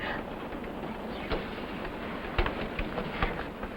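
Train rolling on rails in a 1960 TV western, a steady rushing rumble with faint rhythmic clicks of the wheels running throughout, at a moderate level.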